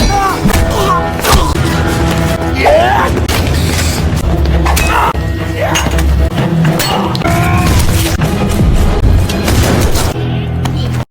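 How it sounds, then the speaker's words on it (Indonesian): Gunfire in a shootout from the film The Childe: repeated loud booming shots and thuds over dense, continuous action-scene sound, with voices and music mixed in throughout. "Lalu mulai menembak bawahannya semua tanpa sisa"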